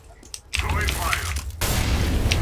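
An incendiary grenade lands in CS:GO and bursts into a loud, roaring crackle of flames, close and sustained, with gunfire-like pops and a voice talking over it.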